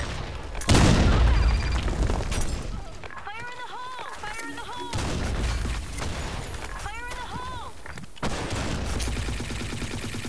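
A grenade blast in the shooter game Blackshot during a competitive match, a heavy boom followed by rapid gunfire bursts and further loud impacts, with voices talking over the action.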